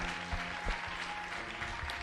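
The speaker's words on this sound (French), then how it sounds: "Acclame une fois de plus pour la vie du frère Lothaire. Acclame, acclame." A church congregation applauds at an evening service, steady dense clapping that fills the room and stays at an even level throughout, with no talking over it.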